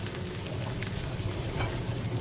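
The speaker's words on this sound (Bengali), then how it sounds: "প্রথমে আমি পেঁয়াজ দিয়ে দিচ্ছি আর এখানে চাপা শুটকি দিয়ে দিচ্ছি" Onions and chapa shutki, dried fish, fry in a pan for a mushroom curry, giving a steady, close crackling sizzle that holds evenly throughout with no voices.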